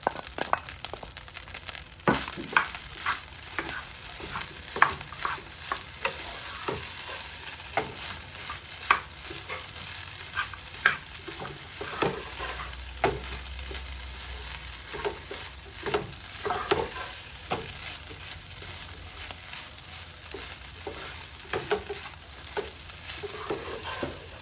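Cabbage is stir-fried into smoky rice dodo in a hot pan, with steady sizzling and repeated scraping, clinking strokes of a spatula, moderately quiet and with no talk.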